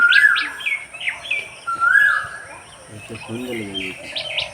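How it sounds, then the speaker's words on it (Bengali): Several birds chirp and whistle in short bright phrases, fairly close, with a brief human voice in the middle. "আর এইদিকে পাখিগুলো ডাকছে গাছে।"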